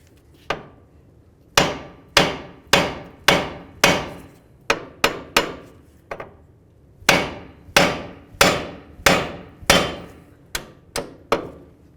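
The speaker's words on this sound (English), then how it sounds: "We'll use our hammer, and we're going to give it a couple loving bonks on the knuckle." A hammer bangs repeatedly on the steering knuckle of a 2000-2005 Buick LeSabre to free the outer tie rod end. About fifteen sharp, loud metallic blows land in quick bursts with short pauses between them, and no one speaks.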